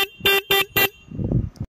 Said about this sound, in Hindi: फाइनली हॉर्न प्रोवाइड करती है बजाज